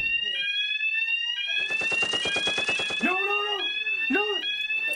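A piercing fire alarm from a short film shrieks in steady harmonic tones, joined by rapid pulsing beeps and a panicked voice speaking over it.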